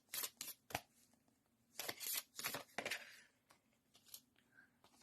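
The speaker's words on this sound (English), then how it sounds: "I will shuffle some cards from the unicorns" Tarot cards are shuffled by hand during a reading, giving a quiet series of short, crisp riffling and snapping bursts separated by brief pauses.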